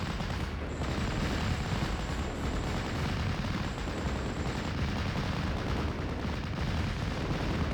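An artillery time-on-target barrage in a strategy video game, a dense continuous roar of overlapping gunfire and explosions, loud and unbroken.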